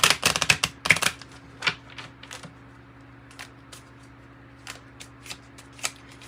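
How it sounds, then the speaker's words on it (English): A Kipper card deck is shuffled up close: a dense burst of riffling cards at the start, then scattered soft, sharp flicks and taps as cards are handled and drawn. "Let's pull from the Kipper deck."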